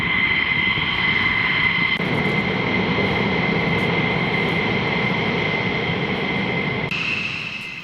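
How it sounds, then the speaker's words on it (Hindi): Israeli fighter jets flying in a steady, loud, continuous roar with a high-pitched whine on top. The engine noise stays constant throughout and fades slightly at the end, with no talk. "इजरायली जेट्स जिन्होंने उड़ान भरी इजरायली एयरबेस से"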